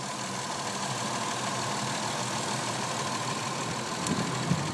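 A 2009 Honda Ridgeline 4x4 with a 3.5 VTEC engine idles with a steady, even hum and a faint rattle, constant in level throughout with no talking.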